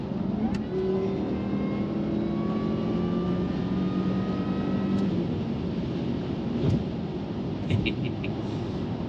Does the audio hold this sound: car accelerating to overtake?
yes